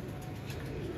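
An Imam Deen pigeon gives soft, low, murmuring coos, faint and continuous for about a second, with no talk.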